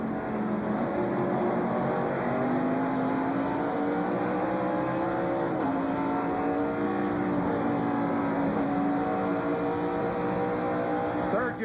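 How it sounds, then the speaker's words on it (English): Stock car at the 1996 Bud at The Glen road race at Watkins Glen, heard from onboard: the engine drone winds down through several downshifts and then rises again, loud and continuous throughout. "Now he downshifts."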